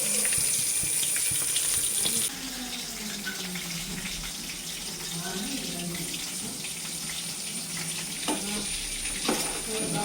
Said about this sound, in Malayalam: എന്നിട്ട് നമ്മൾ വെളിച്ചെണ്ണയിൽ പൊരിക്കുക